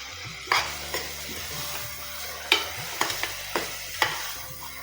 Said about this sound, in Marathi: छान हलवून घेऊ आपण सगळं